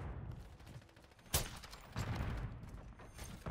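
Sniper shots in a first-person shooter: a sharp, loud crack near the middle stands out above a busy bed of game noise and mechanical clatter, with further rattling bursts later.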